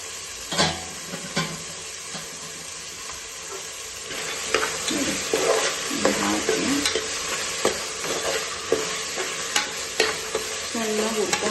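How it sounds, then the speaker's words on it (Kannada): Double beans sizzling and frying in a pan for rice bath, with a spoon stirring and scraping through them in irregular strokes over a steady close hiss. "ಈಗ ನಾನು ಡಬಲ್ ಬೀನ್ಸ್ ಹಾಕ್ತಾ ಇದ್ದೀನಿ ಇದಕ್ಕೆ."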